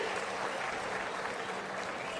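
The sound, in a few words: audience applause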